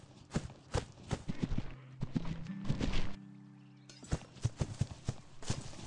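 Horse hooves clip-clop on the ground in a video game's equestrian stable area, a brisk close series of distinct hoofbeats that briefly pauses before resuming.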